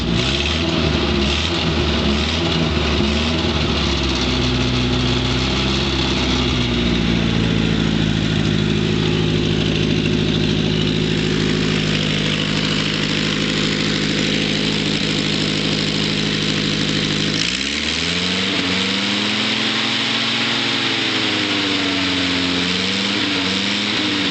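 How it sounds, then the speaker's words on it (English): A 1954 Willys Jeep CJ3B engine idles loudly and steadily nearby, with a rough low rumble that shifts pitch slightly a few times. "Nice old Army Jeep sound"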